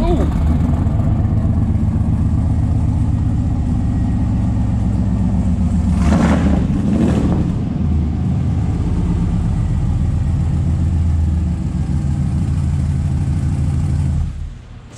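Truck with a rebuilt 408 engine and long tube headers, a loud, deep rumble held close throughout, with two sharp revs swelling near the middle before the engine cuts off at the end.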